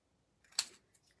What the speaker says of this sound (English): now it's small enough that I can hand cut it